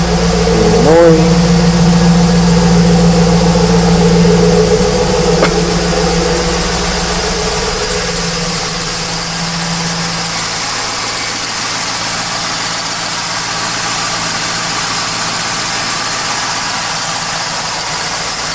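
A 1998 Trans Am engine idles in a garage with a steady low rumble and a high, continuous chirping squeal from the belt, heard up close and loud.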